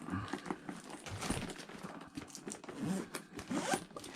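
A zipper is pulled around a carrying case for a Steam Deck console, giving several quick rasping zip strokes with soft handling rustles in between, close up and fairly quiet.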